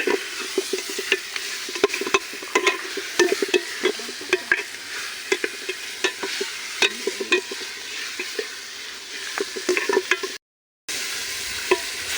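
Ground spice powder stirred and mixed into a frying chicken biryani base, close rhythmic scraping and tapping of a spoon against the pot over a low sizzle, briefly cutting to silence near the end, no talking.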